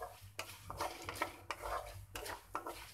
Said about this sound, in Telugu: ఇవన్నీ మనం వేసుకున్నాం కదండి పోపులు, ఇవన్నీ దోరగా వేయించుకోవాలి